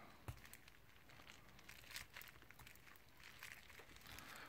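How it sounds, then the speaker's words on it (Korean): Plastic protective film peeled off a new Pocophone F1 smartphone, heard as faint, scattered crinkling and crackling over quiet room hiss. "이제 이 비닐을 벗기고 설정을 진행해 보겠습니다."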